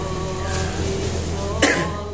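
One sharp cough from a person with a cold breaks out near the end, close and loud, against a steady humming background.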